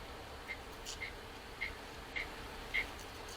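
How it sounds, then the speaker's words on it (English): A frog croaks indoors in an art studio, five short faint chirping calls spaced about half a second apart over a low steady room hum. "Every once in a while you hear croaking."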